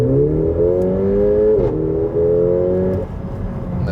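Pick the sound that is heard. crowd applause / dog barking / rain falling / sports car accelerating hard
sports car accelerating hard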